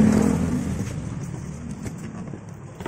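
A 49cc two-stroke mini ATV buggy with red spider styling, its engine running in a steady rough drone that swells slightly, heard up close and continuously with no talk.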